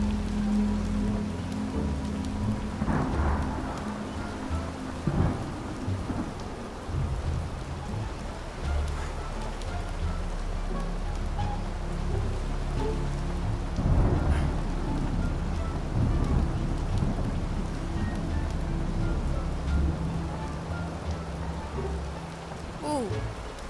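Steady rain falls on a surface throughout, with occasional low rumbles like distant thunder and a few brief sharper knocks, a dense continuous wash with no speech.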